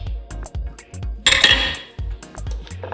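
Utensils clink and scrape against a mixing bowl in a quick, repeated rhythm as egg and vanilla are beaten into creamed butter and sugar for garbage bars, with a louder rattling burst midway.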